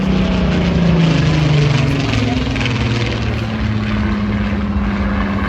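Spitfire Mk 14 piston-engine fighter flying an air show display at Ayr, Scotland, its steady propeller drone loud and continuous throughout, holding a low tone that shifts slightly in pitch as it passes.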